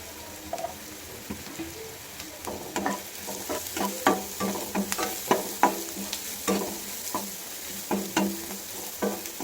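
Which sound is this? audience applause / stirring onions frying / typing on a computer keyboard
stirring onions frying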